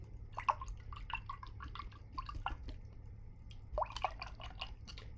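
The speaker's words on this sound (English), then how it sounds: "I'm going to wash my brush." A paintbrush swished and tapped in a water cup after painting, soft close sloshes and drips in two short clusters over a low background hum.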